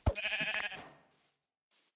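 A sheep in the Minecraft video game gives a loud, close bleat with a wavering tone lasting under a second, then a faint short tail of noise follows after a pause.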